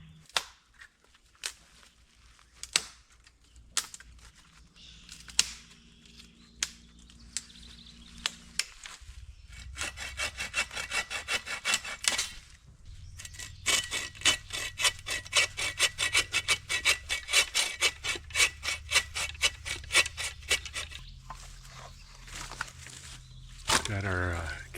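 Firewood being processed by hand at a spring kayak campsite, with steady rhythmic rasping saw strokes for much of the stretch after scattered knocks and rubbing, close by and moderately loud.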